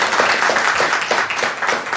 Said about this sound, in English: But can we give a round of applause for Mr.